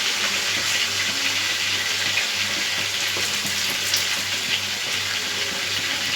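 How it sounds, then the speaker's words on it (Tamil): Fish and sliced vegetables with onion sizzle and fry steadily in a hot pan, a close, continuous crackling hiss with no talking. "மீனை போட்டேன். இப்போ இந்த காய் வதங்கி வரட்டும்."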